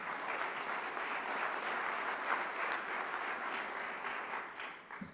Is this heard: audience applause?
yes